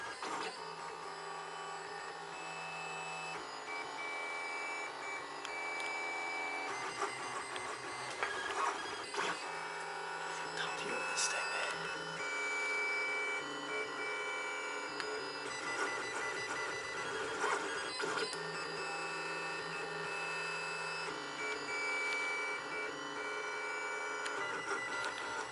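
A 3D printer prints brackets for a duck house, feeding filament from a large spool. Its stepper motors give a steady, close whirring with shifting tonal whines and brief pitch changes throughout, and no one speaks.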